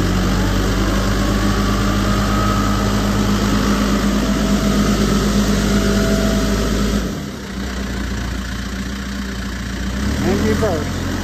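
A 2009 Case 580SM Plus II backhoe's diesel engine runs steadily while the machine reverses in fourth gear, a loud, close, droning idle with a brief dip midway before the engine note rises again; a voice speaks briefly.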